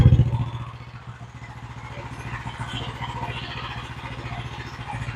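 An engine idles steadily with a 40 Series primary clutch fitted, a rhythmic low pulsing throb with light mechanical clatter, close and continuous after a brief louder thump at the start.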